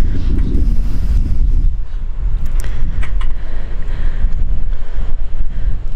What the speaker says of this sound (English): But just over here it's quite windy and rustic.